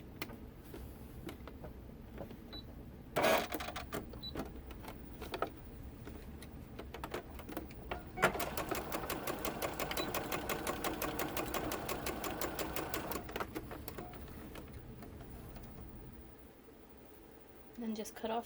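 A sewing machine stitches an elastic tube closed for a fabric scrunchie, its rapid needle chatter running in short bursts and then one sustained run, close and steady, while a person talks in between.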